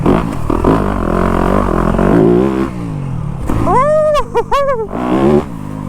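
A Yamaha YZ250F dirt bike engine revs up and down in loud, rising and falling bursts close by on a trail riding outing, with a few quick throttle blips near the end.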